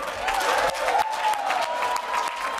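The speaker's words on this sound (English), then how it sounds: "we should give a huge round of applause to the most successful New Zealand Olympic team in our 100-year history" A crowd gives the New Zealand Olympic team a big round of applause on their return home, dense continuous clapping with some cheering and voices underneath.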